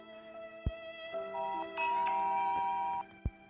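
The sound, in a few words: doorbell ringing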